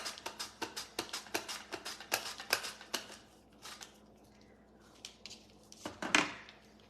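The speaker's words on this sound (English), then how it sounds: "I'm gonna grab my mandolin. I'm gonna put my, just gonna do a little bit of slicing here." Food sliced on a kitchen mandolin, a quick run of about a dozen crisp, rhythmic scraping strokes up close, then a pause and a few scattered slices and a clatter, with no talking.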